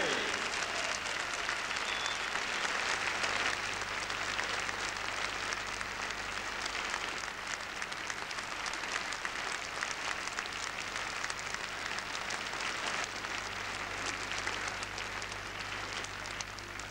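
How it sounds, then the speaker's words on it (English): Long, steady roar of applause from a large pageant audience at the Miss South Africa 1988 show, greeting a judge. Dense and even, it runs unbroken for seventeen seconds under a faint hum. "Let's give her a rousing round of applause, Penny Coolen-Ray."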